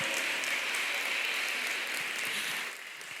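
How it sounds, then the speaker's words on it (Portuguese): A church congregation at a women's service applauds steadily, a thick, continuous patter of many hands that fades slightly near the end. "Pode aplaudir, porque essa palavra é para nós."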